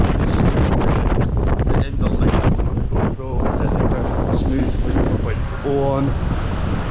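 Hurricane-force wind in a red weather warning, around 80 mph, buffets a GoPro Hero 10's internal microphones, producing a constant loud roaring rumble and blustering noise that fills the whole stretch, with a voice faintly audible beneath it.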